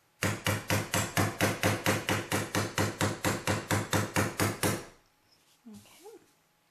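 A blacksmith hammers metal on a swage block in a rapid, even series of about twenty loud, ringing blows that stop abruptly, followed by faint shop noise and a brief low voice.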